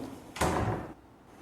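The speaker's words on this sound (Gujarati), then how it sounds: "અને કુકરનું ઢાંકણ આપણે બંધ કરી દઈશું." The lid of a pressure cooker is pushed shut with a single scraping, sliding clunk at close range that lasts about half a second, followed by quiet.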